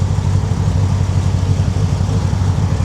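Deep steady rumble of an old car with a 347 stroker engine idling, heard from a distance through a mic, continuous and even with no talking.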